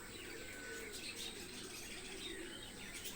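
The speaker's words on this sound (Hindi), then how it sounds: "ये कुछ और आवाज़ है, ये मुर्ग और ये कबूतर और तोते" Domestic pet birds, including roosters, pigeons and parrots, call in the morning: faint scattered chirps and soft coos over a quiet background.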